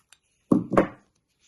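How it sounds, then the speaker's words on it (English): Scissors trim the corners of a fabric bag handle, making two quick, close snips after a faint tick, with silence around them. "So now I just want to trim off the corners slightly, don't cut your stitches"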